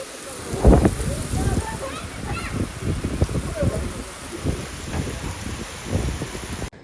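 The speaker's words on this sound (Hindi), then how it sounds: "शाम के टाइम पे कितनी ज़ोरदार बारिश हुई है" Heavy evening rain falls in Sindh, a steady hiss and patter with a few louder gusts and splashes, recorded close by with no talking.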